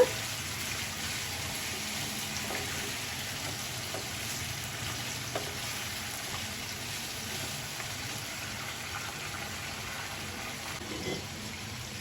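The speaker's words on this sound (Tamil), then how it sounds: "அந்த நாட்டுக்கோழியை போட்டுக்கலாம்." Steady sizzling and frying of country chicken pieces in a pan, with faint stirring scrapes and occasional clinks over a constant hiss.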